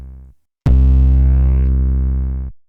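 A short low bass note cuts off, then a long, heavy distorted 808 bass tone sustains loudly for about two seconds before stopping.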